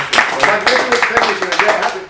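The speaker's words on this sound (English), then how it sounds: "But first, shall we give Colin a little round of applause?" Quiz show audience giving a short round of applause, scattered individual claps loosely spaced over a couple of seconds, fairly close and moderately loud, with some voices mixed in.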